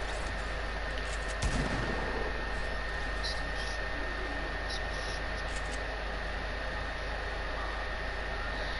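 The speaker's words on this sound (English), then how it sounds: "Is there only shotguns in this game mode?" A single shotgun blast from a shotguns-only video game mode sounds near the start, a sharp boom against a steady hiss of background noise.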